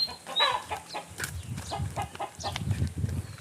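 Chickens in a bonsai garden cluck and squawk nearby in irregular bursts, with one sharper call early on over quiet outdoor background.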